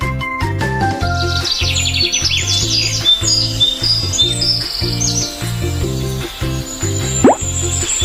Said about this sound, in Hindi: चिड़िया बोली।